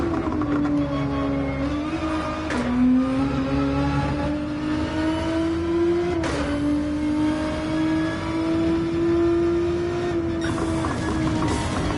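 Race car engine in Gran Turismo 7 revving hard and continuously, its pitch climbing steadily with brief dips at gear shifts, loud and close throughout with no talk.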